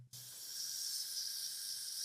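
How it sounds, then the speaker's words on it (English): Carbonated soda pop fizzing right up against a microphone, a steady, intense hiss of bubbles that starts abruptly after a brief silence and holds loud and continuous throughout. "this one that will not stop fizzing"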